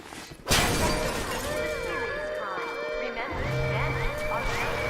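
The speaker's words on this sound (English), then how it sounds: "If I break the glass, it's gonna alert the little dudes" A pane of glass shatters in the BioShock video game, with a sharp burst followed by a sustained musical game soundtrack.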